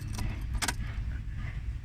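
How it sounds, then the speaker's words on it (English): Car keys jangle close by as they go into the ignition of a Nissan Sunny B11 130Y, with two brief bright metallic bursts over a low steady hum. "this is the key, and this is where you put in the keys"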